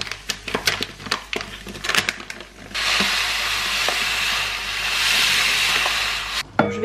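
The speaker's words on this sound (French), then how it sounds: "Maintenant, je vais laisser mijoter le tout pendant environ 15 minutes." Food for an autumn meal prep simmering in a pan, a steady broadband sizzle that runs for several seconds after some clattering utensil knocks, with no talk.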